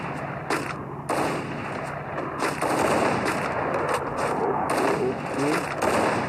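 Shooting video game gunfire from a double-sniper round: loud, sharp shots recur at irregular moments over a busy, dense background of game noise.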